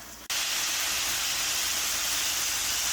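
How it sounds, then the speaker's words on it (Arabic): Unseasoned beef pieces browning in a pot: an abrupt, loud, steady hiss of sizzling meat that starts after a brief quiet moment and holds without a break. "هحمر اللحمه كده، مش هحط لها اي حاجه غير بعد ما تتحمر"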